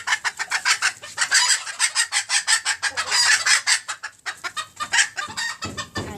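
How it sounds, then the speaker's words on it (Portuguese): Chickens clucking in a rapid, busy series of close, loud calls, with a rooster's crowing mixed in among them, and no talk. "Vou mostrar cada galinha."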